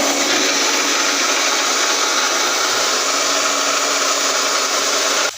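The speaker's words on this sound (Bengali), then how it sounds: "এখন আমি মিক্সিতে বেটে নিব পোস্ত আর কাজু।" A kitchen mixer grinder whirs loudly and steadily, close by, as it grinds poppy seeds and cashews, then cuts off abruptly at the very end.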